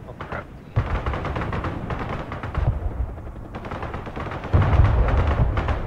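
Artillery fire in the Broken Arrow video game, repeated heavy blasts and rapid bursts of gunfire rolling on in a dense, loud barrage with a short lull in the middle.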